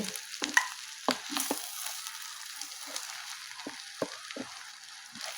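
A spiced mixture with coriander leaves is stirred in a hot pan, its steady soft sizzle broken by repeated spoon scrapes and clicks against the metal, close up and with no talking.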